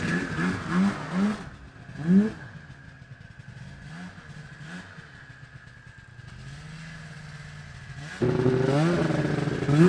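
A worn snowmobile engine after repair work, revving in short bursts early on, then settling into a steady mid-pitched running drone that climbs louder again near the end, heard close with no talk.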